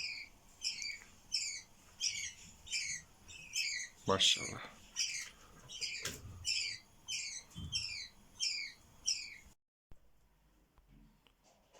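Rapid, repeated high-pitched chirping from young budgerigar chicks at feeding, a steady series of squeaky calls, with a brief spoken word and a few thumps partway through.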